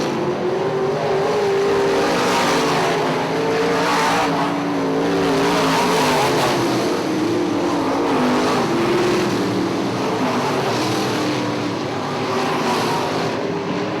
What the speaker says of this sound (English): Your leader Ryan Fisk moving in on slower traffic as they head into turn 3.